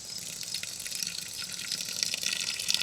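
During a home-brew batch sparge, water runs off in a steady, moderately quiet gushing stream that continues without pause from start to finish.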